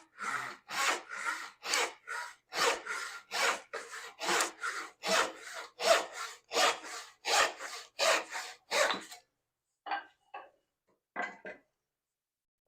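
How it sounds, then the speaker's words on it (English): A hand crosscut saw cuts through wood in a steady run of about sixteen rhythmic rasping strokes, close and alone, then a few slower, lighter strokes finish the cut. "We'll take our crosscut saw here."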